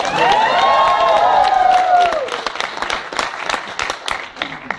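Audience in a cinema hall applauding, a loud dense burst of clapping with some cheering and a whistle that fades after a couple of seconds into scattered individual claps.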